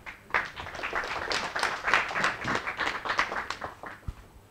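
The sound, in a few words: audience applause for speaker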